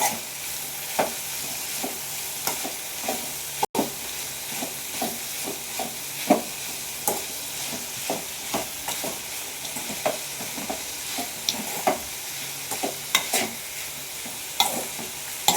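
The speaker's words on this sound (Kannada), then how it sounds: "ಈಗ ಒಂದ್ಸಾರಿ ಮಿಕ್ಸ್ ಮಾಡ್ಕೊಳ್ಳಿ ಚೆನ್ನಾಗಿ" Cluster beans stir fry being mixed in a pan, a spoon scraping and tapping in a steady rhythm over a constant close sizzle of frying, with no voices.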